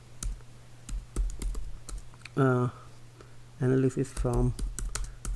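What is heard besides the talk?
typing on a computer keyboard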